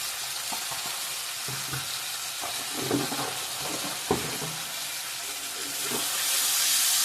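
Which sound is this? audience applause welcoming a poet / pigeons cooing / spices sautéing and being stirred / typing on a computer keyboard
spices sautéing and being stirred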